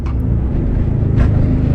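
Audi RS3 hot hatch, 2021 or later, pulling away hard on launch control: a loud, steady low engine rumble and drone that holds throughout, with a brief swell in intensity partway through.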